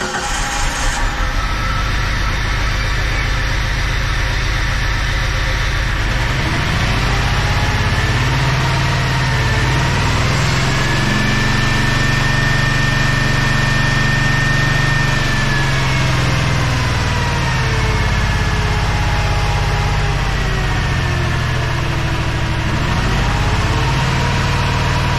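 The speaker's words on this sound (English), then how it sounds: "Right, so the engine has started up" A Jeep 4.0 engine in a 1982 CJ7 cranks over and fires up on its first start, then settles into a loud, steady close-up idle with a low rumbling drone and slight revving.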